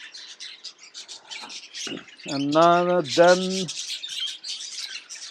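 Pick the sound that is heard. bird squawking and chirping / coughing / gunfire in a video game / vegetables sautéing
bird squawking and chirping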